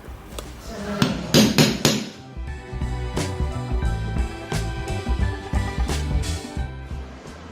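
Hammer blows strike a steel center punch to mark a mounting point for a wiring installation: a quick cluster of three or four sharp metallic knocks, followed by a steadier series of lighter taps, close and loud.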